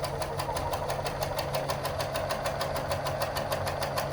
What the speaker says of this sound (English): I just stitch right on top of that